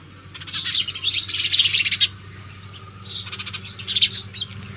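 Sparrows chirping in a village cattle-shed setting, a lively flock giving dense bursts of high twittering calls in two clusters, fairly close, over a low steady background hum.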